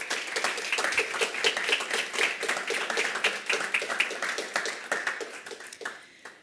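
Audience claps for award finalists at a quantum technology competition, individual sharp hand claps clearly separated in a brisk, fairly even rhythm that thins out and fades near the end.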